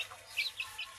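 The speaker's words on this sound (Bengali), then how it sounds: "এখন মুরগি ছানা খাবে চালগুলি" Young chicks eating rice give a few faint, high peeping clucks in quick succession, soft and brief against quiet background.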